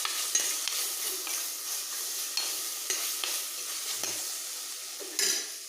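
Tomatoes with pepper sizzle steadily in a hot pan while a spoon stirs and scrapes through them at intervals, close and continuous, with no talking.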